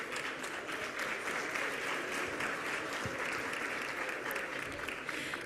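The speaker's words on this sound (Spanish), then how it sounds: "Un fuerte aplauso, por favor." Steady, full applause from a large audience at a national tourism forum in Mexico, filling the hall evenly for several seconds without a break.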